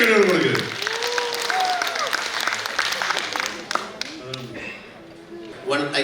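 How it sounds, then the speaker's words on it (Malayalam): Audience applause at an Onam celebration, a dense burst of clapping strongest at the start that thins out and continues beneath someone speaking through a microphone. "നല്ലൊരു കൈയടി കൊടുക്കുക."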